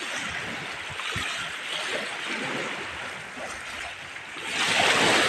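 Steady broadband wash of seaside waves and wind on a beach, a continuous rushing roar that swells louder toward the end, with faint low thumps and no clear talk.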